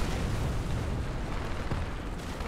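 A rocket blast rumbles in the tank game War Thunder, a dense, low, roaring explosion that fills the whole moment at steady loudness with no voices.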